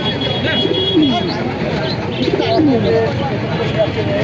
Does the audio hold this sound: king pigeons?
yes